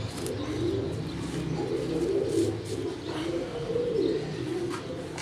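Indian pigeons cooing at close range, soft repeated low coos in a gentle rolling rhythm with faint chirps in the background and no talking.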